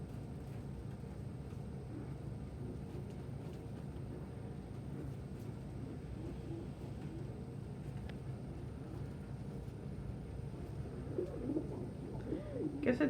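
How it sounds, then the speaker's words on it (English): Pet birds cooing at each other in a threatening way, low soft coos rising near the end over a faint steady background hum. "Cookie and Lily are politely threatening each other in the background"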